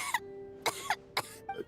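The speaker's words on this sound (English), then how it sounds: "How long have you had that cough, Tonya?" A character in Genshin Impact coughs: four sharp, rough coughs in an uneven rhythm, close and fairly clear, with a faint steady background tone.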